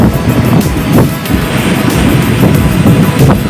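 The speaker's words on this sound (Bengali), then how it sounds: "সমুদ্র যেন পাগলামি করছে এই ঝোড়ো হাওয়া, ঝোড়ো ওয়েদারের সঙ্গে।" Stormy sea at Digha beach, with heavy waves rolling in under strong gusting wind; a continuous loud roar swells and surges every second or so.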